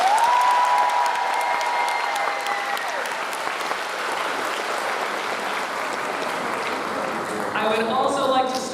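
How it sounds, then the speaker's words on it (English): At a middle school graduation ceremony, a crowd applauds the class of 2025 in sustained, steady clapping, with a fading voice at the start and cheering whistles near the end. "I want to start with our first of many round of applause for the class of"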